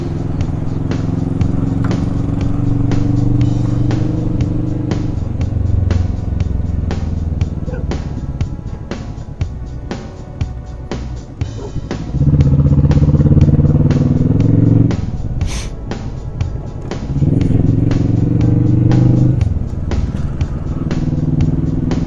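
A Kawasaki Vulcan motorcycle riding a mountain road in a group ride, its engine droning loudly and steadily with rising and falling revs, wind buffeting and clatter throughout.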